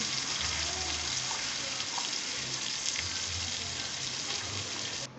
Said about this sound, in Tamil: நாலு நிமிஷமாவது நல்லா வெங்காயத்தை பொன்னிறமாக வர அளவுக்கு வதக்கணும்